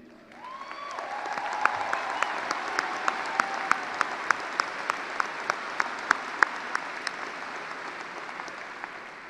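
Sustained audience applause fills a high school ceremony hall, steady dense clapping with a few sharper individual claps standing out, continuing at even loudness throughout.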